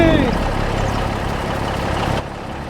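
A semi truck engine in Farming Simulator 25 drones steadily in a low, continuous rumble, close and fairly loud, before dropping slightly in level near the end.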